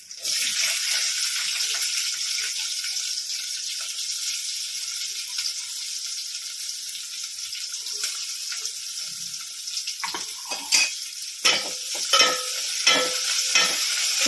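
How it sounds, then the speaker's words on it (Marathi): Curry leaves, ginger and onion fry in a pan with a steady close sizzle, then scraping stirring strokes and clatter break in near the end, loud and alone with no talk. "तर आपण थोडासा कढीपत्ता टाकणार आहोत थोडासा अद्रक टाकणार आहोत तर कांदा टाकणार आहोत"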